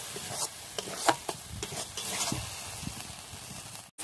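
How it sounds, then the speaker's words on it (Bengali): Spices with ginger-garlic water sautéing and being stirred in a pan for a potato and boiled egg masala curry, a soft steady sizzle with scattered stirring scrapes close by and no voices. "আবারও আমি ভালো করে কষিয়ে নেব।"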